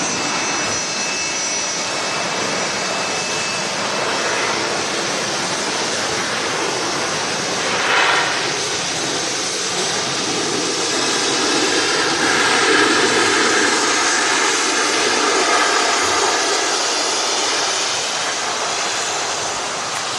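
A Boeing 757 jet takes off at Manchester Airport, a broad, sustained engine roar with a hissing, rushing high end that swells midway and stays strong, heard from a distance with no talk.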